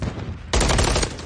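Rapid automatic gunfire in a video game ripples out in a short, loud burst, cutting in abruptly halfway through after quieter background fire.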